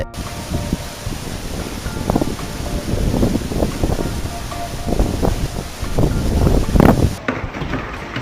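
Strong wind blasts across the microphone near a waterfall in Maharashtra, a loud, gusting roar with rumbling surges that rise and fall continuously, the water's rush blended into the buffeting.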